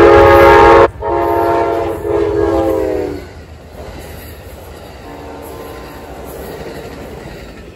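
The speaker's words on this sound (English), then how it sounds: "Amtrak 29 to Capital Limited, which goes from Washington, D.C. to Chicago, Illinois, gets ready to haul through here and get ready for a station stop in South Bend" The Amtrak Capital Limited passenger train sounds a loud, sustained horn blast, then a shorter second blast, before rumbling past with rolling wheel noise and faint squeals fading into a steady roar.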